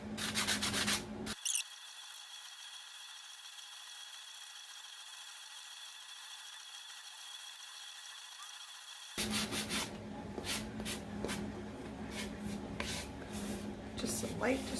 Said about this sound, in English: We're just going to distress the edges.